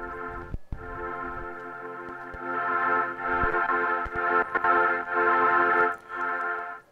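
A Streichfett string synthesizer plays sustained chords through an Ezhi & Aka tape pedal, warm held tones swelling and dipping with a few clicks and gaps between notes, moderate in level with no voices.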